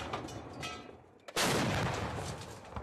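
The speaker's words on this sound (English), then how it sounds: "The army does not sleep either, pounding them with 130 mm artillery shells." Rounds from 130 mm army artillery are fired at night in rugged mountains. Heavy booms ring out, with one loud blast partway through, and a rumbling echo trails after it.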